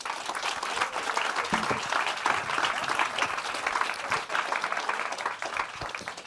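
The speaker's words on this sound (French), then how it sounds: "Je crois que vous pouvez les applaudir pour cette première partie." An audience applauds the speakers at a public debate on the water crisis, with dense, loud, sustained clapping across the whole stretch and no talk over it.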